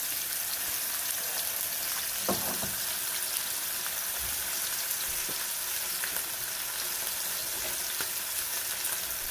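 Ranch-crusted pork chops frying in a hot pan, a steady soft sizzle running throughout with a few faint clinks and stirring sounds, no voices.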